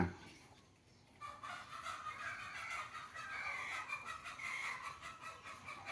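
Chickens cluck and call repeatedly at moderate distance, a continuous bird chatter over background noise in a Thai market or farm setting.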